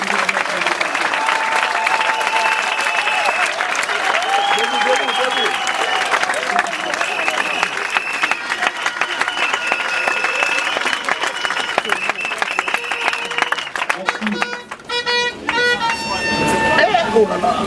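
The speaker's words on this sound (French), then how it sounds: "nous permettons de demander aux représentants de la base de vous adresser une salve bien nourrie d'ovations et" Party congress delegates give a long, loud ovation: dense applause fills the room, mixed with horn toots and crowd noise, and the clapping keeps going strongly to the end.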